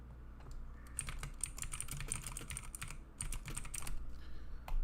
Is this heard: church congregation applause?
no